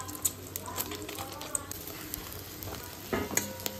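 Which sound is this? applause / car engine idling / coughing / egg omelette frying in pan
egg omelette frying in pan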